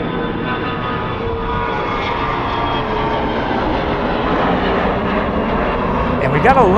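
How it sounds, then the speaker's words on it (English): A jet aircraft on landing approach at Charlotte Douglas Airport, a loud, steady engine roar holding throughout, with a voice talking over it near the end. "We got a landing coming in that's going to mess us up."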